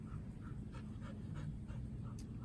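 A retriever in gun-dog training pants steadily and quickly, close by, against a constant low rumble of outdoor background noise, with no talking.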